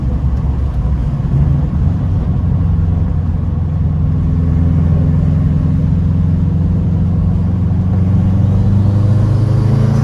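A turbocharged Subaru WRX hatch with an EJ25 engine and a stock-location turbo runs loud and steady for about ten seconds. Its deep drone rises gradually in pitch like a slow rev build, and no one speaks.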